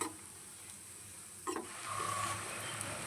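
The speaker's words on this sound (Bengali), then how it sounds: "আবারও আমি ভেজে নেব একটু লো টু মিডিয়াম আজে ভাজলে কি ভেতর থেকে পুরো ক্রিস্পি হবে" Semolina and potato snack frying in oil over low to medium heat, a soft steady sizzle with a brief clatter of stirring partway through, no talk.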